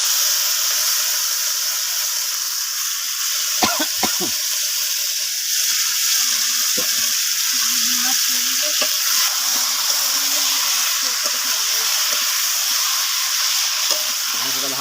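Chicken pieces drop into a hot pan and fry with a loud, continuous sizzle and hiss, punctuated by a few sharp knocks and scraping stirs, with a voice briefly heard.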